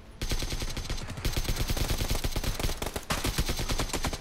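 Gunfire in PUBG on PS4, loud rapid automatic bursts fired in quick succession with a short pause partway through, close and dominant with no talk over it.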